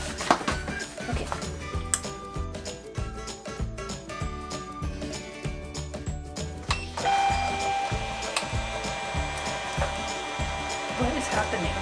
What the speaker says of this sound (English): It just keeps printing one square of the label.